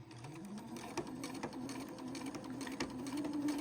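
A sewing machine stitches pieces of a star quilt block together, running in a steady rapid whirring hum with fast rhythmic needle clatter that rises slightly in pitch as it speeds up, close by and without talk.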